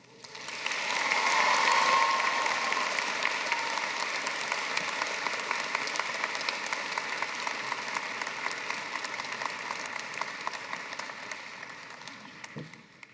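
A large graduation ceremony audience breaks into sustained applause, a dense and steady wash of clapping that swells quickly and holds for several seconds before fading out at the end.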